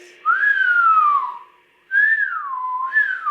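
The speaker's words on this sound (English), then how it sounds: "Did they just whistle at us?" Two rising-and-falling whistles, each lasting over a second with a short gap between, are heard indoors at the Villisca axe murder house; the whistling is clear and fairly loud with no talking.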